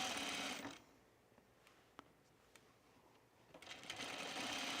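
Sewing machine stitching a slinky rayon collar near the neckline, running loudly at the start, pausing into quiet with faint clicks, then whirring up again close by, no talk.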